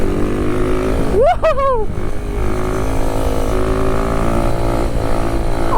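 Kawasaki Z125 motorcycle engine droning loudly and steadily through a third-gear wheelie, with a brief excited shout over the roar.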